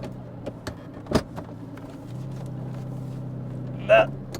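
Inside a Lamborghini Diablo 6.0, a low, steady engine drone at 2,500 rpm hums under talk, with a few sharp clicks and knocks from the cabin.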